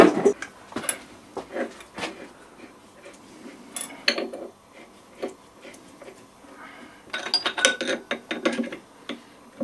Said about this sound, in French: on va installer l'étau avec un V et on va centrer la pièce